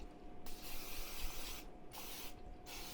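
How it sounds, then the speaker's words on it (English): Non-stick cooking spray hisses into an air fryer cake pan in three close bursts, each a steady, airy blast separated by short pauses. "We're gonna make sure and spray it really well,"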